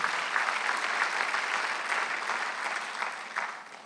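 A church congregation claps during a service, a steady burst of moderate applause in a reverberant room that tapers slightly at the end.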